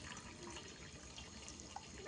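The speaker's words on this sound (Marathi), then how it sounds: "ताटात आपण थोडंसं पाणी ओतून घेणार आहोत" A little water poured into a metal plate while cooking chicken rassa curry, heard as a faint, steady watery trickle in a quiet kitchen.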